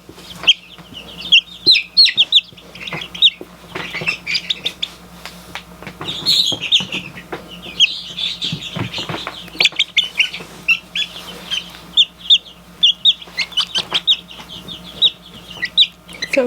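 Standard buff Orpington chicks peep constantly in a brooder, a dense, lively chorus of high chirps close by, with no one speaking.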